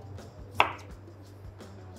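A single crisp knife chop slices cucumber on a cutting board, with a few fainter taps around it in an otherwise quiet kitchen.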